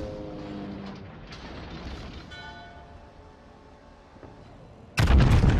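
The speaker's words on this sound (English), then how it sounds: "now he is going to face Musashi's guns." Battleship Musashi's 460mm main guns in World of Warships fire as one loud, sudden broadband blast near the end, after several seconds of low mechanical rumble and faint clanking.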